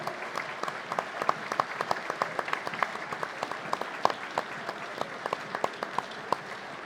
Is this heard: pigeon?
no